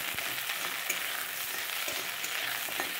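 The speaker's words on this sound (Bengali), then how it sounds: "আলু আর বেগুনটা যখন এরকম একটু ভাজা ভাজা হয়ে যাবে" Potatoes and eggplant frying in oil for a mustard hilsa curry, a continuous close sizzle with light occasional stirring clicks, steady and fairly quiet, with no voices.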